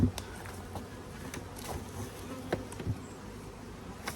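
A soft, steady honeybee buzz hums close by around a hive, with scattered light taps and knocks rising over it at irregular moments.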